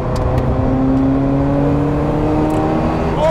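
Ferrari F40 twin-turbo engine accelerating hard on boost, a loud, steady rising drone with climbing harmonics and a sharp whine near the end, up close from inside the car.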